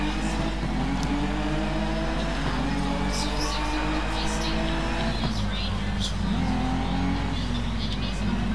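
A Ginetta race car in a racing video game drones with a steady, loud engine note that rises and falls with revving, under continuous talk from a man.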